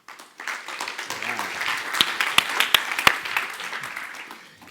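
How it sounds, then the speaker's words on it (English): Applause greets a presenter from Inven Capital at the ECO15 London conference, a modest burst of clapping with a few sharp, close claps standing out, mixed with cheers or voices from the audience. "He gets an extra round of applause"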